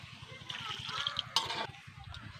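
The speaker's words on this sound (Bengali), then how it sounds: "কষানো হয়ে গেছে, জল দিয়ে দেবো।" Water is poured into a simmering katla fish curry being cooked in Sundarban, with a brief splashing rush midway over a steady background hiss and faint murmuring voices.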